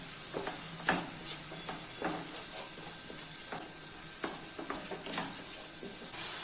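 A spice masala sizzles in oil in a pan for a rohu fish curry, giving a constant crackling hiss broken by periodic scraping strokes of a stirring spoon, close and moderately loud.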